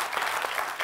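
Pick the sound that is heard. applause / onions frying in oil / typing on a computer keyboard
applause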